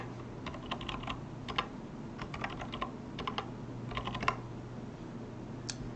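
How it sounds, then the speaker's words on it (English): Someone types a command on a computer keyboard while setting up an Ubuntu server, the keys clicking in quick, uneven clusters against a steady background hum, close and moderately quiet with no talking. "let's type in sudo chmod."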